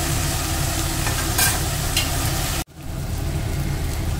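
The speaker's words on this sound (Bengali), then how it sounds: "মা চিংড়ি মাছটা এখন একদম ব্রাউনিশ কালার করে খুব কড়া কড়া করে ভেজে নেবে" Prawns fry in a pan until brown and crisp, giving a dense, steady sizzle with occasional stirring scrapes, close and continuous before cutting off abruptly and resuming.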